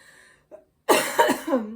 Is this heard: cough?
yes